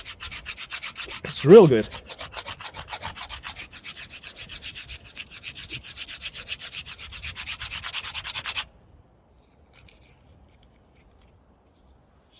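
A Bark River Fox River EXT-1 knife shaves curls from a piece of wood in quick, rhythmic rasping strokes, close up. A brief voice cuts in near the start, and the scraping stops abruptly after about eight seconds, leaving near silence.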